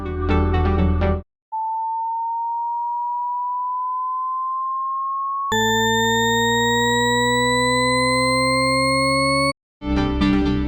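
A Shepard tone illusion: a pure electronic tone glides slowly upward alone, then a stack of layered tones keeps climbing smoothly in pitch, the highest fading out as new ones enter beneath, framed by brief bursts of music.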